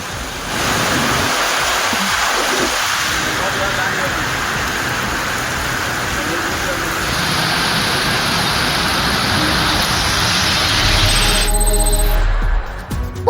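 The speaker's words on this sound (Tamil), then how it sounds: "ராணிப்பேட்டை மாவட்டத்திலும் 1 மணி நேரத்திற்கு மேலாக மழை பெய்தது." Steady, dense hiss of rain falling over a wide area, continuous and fairly loud throughout, with a brief tonal rise near the end.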